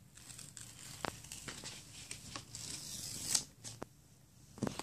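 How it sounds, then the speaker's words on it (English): A hand-made marker label is peeled carefully off its backing, giving a soft crinkly tearing texture with a few sharp ticks and a brief louder rip near the end, close and quiet with no talk. "And let's peel it off carefully."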